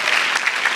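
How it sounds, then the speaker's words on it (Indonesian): Crowd at an Indonesian stand-up comedy show breaks into loud, dense applause, a brief, continuous burst of many hands clapping close by. "Boleh tepuk tangan dulu buat kita semua biar semangat."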